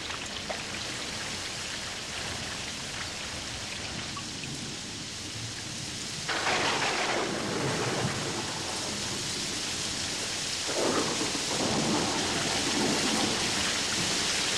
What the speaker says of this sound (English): The rains start in late October and become more frequent as the months go by.